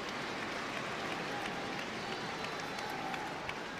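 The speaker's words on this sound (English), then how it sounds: "You still hear that applause going around the ground" Steady applause from a large stadium crowd at a women's international football friendly, England vs Czech Republic, rolls on without pause, a dense wash of clapping heard from a distance, with no voices over it.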